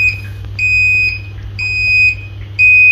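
A robot vacuum emits a series of high-pitched beeps, about one every half second, clear and close against a faint low hum.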